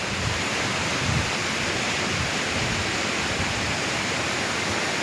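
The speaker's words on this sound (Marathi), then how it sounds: "आता पाणी वाहता बघा." Steady roar of a waterfall at Ghonsari near Kankavli in the Konkan, water pouring continuously as an even, close wash of rushing noise with no voices.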